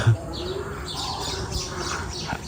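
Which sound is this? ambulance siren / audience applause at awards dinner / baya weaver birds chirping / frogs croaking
baya weaver birds chirping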